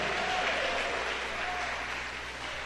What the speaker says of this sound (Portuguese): Batam palmas e deem glórias ao Senhor